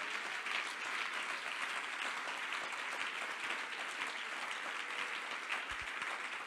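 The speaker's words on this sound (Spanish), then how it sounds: "Dele el aplauso al Señor." Congregation in a church applauding together, a steady dense clapping that fills the space evenly and holds at full strength throughout, with no talk over it.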